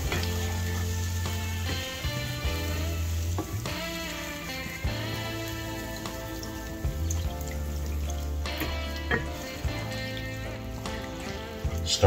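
Beef broth being stirred into a hot pan for Salisbury steak gravy, a continuous bubbling sizzle with liquid sloshing and utensil scraping, heard up close beneath background music.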